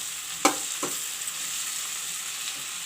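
Okra and potato frying in an uncovered pan, a soft continuous sizzle with two sharp spatula clinks at the start and no voices.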